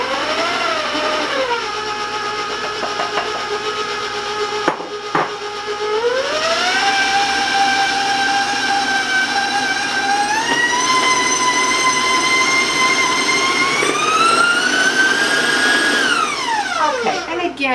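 An electric mixer beats chocolate chip cake batter with a loud, continuous motor whine that rises and falls in pitch as the speed shifts, then winds down at the end.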